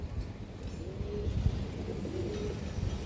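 Pigeons coo in a low, repeated murmur close by, with soft overlapping calls from a loft of fancy pigeons including a female bird, and no talk over them.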